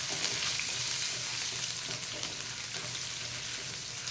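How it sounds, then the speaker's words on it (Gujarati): Thin shreds of green chili frying in oil in a pan while wheat murmura is being prepared, giving a steady, close sizzle with light stirring scrapes throughout and no talking. "હવે આપણે આને બરાબર મરચાંને શેકાઈ જવા દેવાના."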